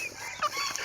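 Large live chickens being caught for sale on a Thai-Lao farm cluck briefly and softly in a short, fairly quiet burst with no talk.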